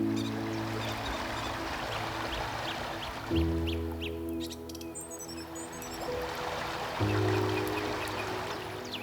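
Birds chirping faintly in the background over a steady droning hum and soft washing noise, with a few short bursts of bird calls.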